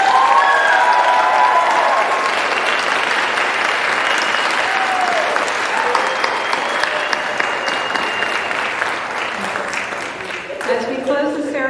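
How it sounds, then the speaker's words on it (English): An audience at a Phi Theta Kappa induction ceremony applauds its inductees with loud, sustained clapping that fills the room for about ten seconds, then fades as a voice begins to speak near the end. "Let's give our inductees a round of applause."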